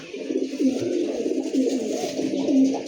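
Rocket-line breeder pigeons coo in a steady, overlapping low murmur, close and continuous, with several birds calling together and no talking.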